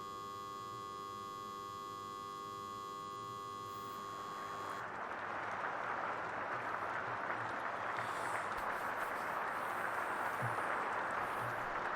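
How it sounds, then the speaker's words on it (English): Broad, steady crowd applause in the video game You and Me and Her swells up after a few seconds of tonal hum and keeps going loudly to the end, with a few sharper claps standing out. "The curtains rise to loud applause."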